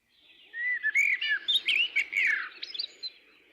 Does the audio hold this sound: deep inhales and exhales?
no